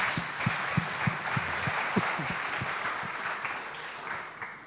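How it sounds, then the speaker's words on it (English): Audience applause for a panelist at a photonics economic forum panel in Malaga, a steady wash of clapping from a sizable crowd lasting throughout, fairly loud and alone. "A round of applause for the next panelist"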